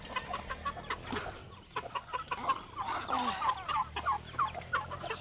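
Chickens clucking and cackling in short bursts, several birds nearby, with some soft background noise and no clear talk.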